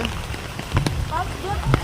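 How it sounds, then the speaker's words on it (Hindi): Heavy rain falls near steel steps at a hillside temple, making a steady close patter and hiss with a few sharper drops. Voices can be heard faintly underneath. "ज़ोर की बारिश हो रही है।"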